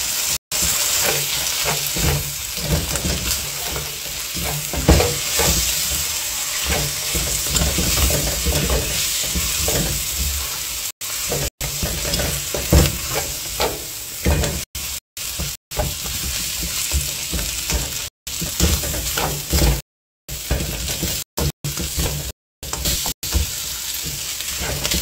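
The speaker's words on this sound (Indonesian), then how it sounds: "Kita goreng dulu sampai benar-benar mereka ada bau-bau gosong-gosongnya gitu loh" Rice stirred and fried in a pan, cooked until slightly scorched: a steady, close sizzle with repeated scraping and stirring strokes running throughout, with no voices.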